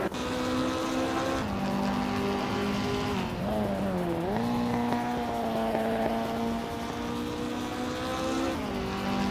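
Race cars in a video game scream close by with high engine whines that shift pitch as they accelerate and change gear, packed together in a continuous, dense roar.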